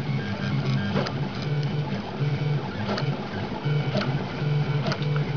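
Stepper motors on a BeagleBone-controlled 3D printer running slowly while printing text, a continuous mechanical whirring with buzzing tonal pitches that shift as the head moves, steady and close with no voices.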